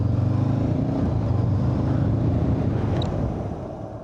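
A motorcycle engine drones steadily and close during slow riding practice, a low rumbling note that eases off slightly toward the end, with no talk.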